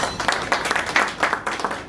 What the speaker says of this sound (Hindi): उसके लिए मैं चाहूंगा जोरदार तालियां।